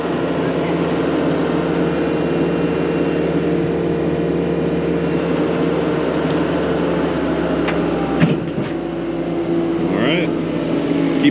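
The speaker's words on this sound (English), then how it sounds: "You guys can hear the tractor doing a regen behind me." A tractor engine idling steadily through a regen cycle, a constant low hum with tonal harmonics close by, joined by a few clanks and brief sharper noises.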